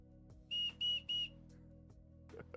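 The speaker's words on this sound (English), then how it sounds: "This, for any Avatar fans, this is an Appa whistle." A 3D printed Appa whistle from Avatar is blown three times in quick succession, each a short, bright, piercing tone, close and loud over a quiet background with a low steady music bed.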